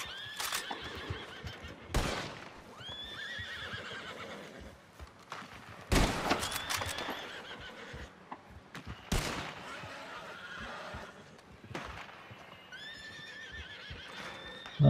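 Several horses neigh and whinny in the Red Dead video game, their shrill cries recurring amid clip-clopping hooves and sharp bursts of gunfire, with occasional voices in the background.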